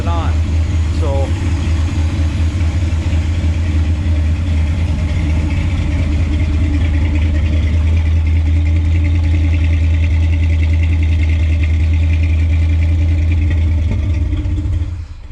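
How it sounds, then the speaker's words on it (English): A 1968 Chevy C20 truck's big block engine idles with a deep, steady low rumble and faint clatter, running continuously up close before easing off at the end. "It seems to be idling all right now"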